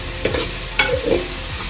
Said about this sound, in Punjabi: ਟਮਾਟਰ ਪਾ ਕੇ ਆਪਾਂ ਜੀ ਬਣਾਉਂਦੇ ਹਾਂ ਗ੍ਰੇਵੀ